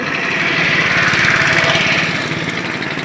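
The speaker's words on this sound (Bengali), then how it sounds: "কাঁঠাল ভর্তি ট্রলার যাচ্ছে।" A steady, droning small engine of a motor trawler boat on a river runs continuously at close range, its buzzing hum unchanging throughout, with no voices.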